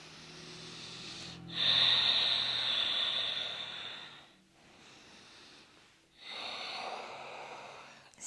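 Slow, deep breathing during a yoga pigeon pose, with a long, airy, hissing inhale or exhale, a pause, and then another breath, close and fairly quiet.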